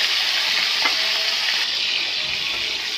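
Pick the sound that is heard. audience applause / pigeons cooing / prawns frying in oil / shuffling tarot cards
prawns frying in oil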